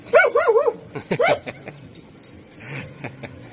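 A pet dog barks in a quick burst of high yips and bow-wows, then a second short volley, close by, followed by quieter rustling and faint background sounds.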